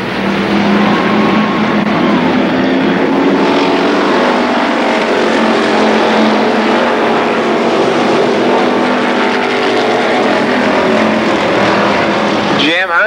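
Stock cars racing at Columbus Motor Speedway during the Labor Day Championships, a loud, continuous roar of several engines circling the track, with a commentator talking over it throughout.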